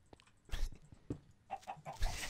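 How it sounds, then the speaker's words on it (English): Chickens in the modded Minecraft setup CrazyCraft clucking in short bursts, a few separate squawky calls spread over a couple of seconds, fairly close and moderately loud, with no talk over them. "Oh, these chickens, they scare me so much."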